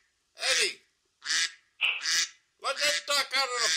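A duck kept indoors quacks in a run of loud, nasal, raspy calls close by: two single quacks, a short pair, then a quick burst of three, with quiet gaps between them.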